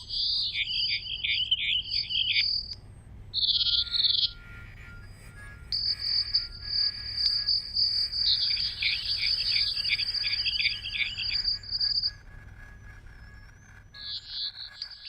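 Artificial soundscape produced by evolved bio-robots, resembling insects, birds and frogs: repeated warbling, chirping tones in bursts and long sustained trills over a low steady hum, with no talk.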